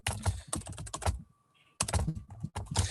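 Typing on a computer keyboard, rapid close clusters of key clicks in bursts with a short pause midway.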